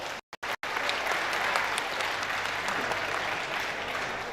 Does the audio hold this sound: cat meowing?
no